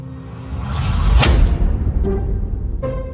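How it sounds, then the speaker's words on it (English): A swelling reversed whoosh builds to a sharp peak, followed by a dull thump and a lingering tonal tail. "I reverse it to make a reverse impact noise"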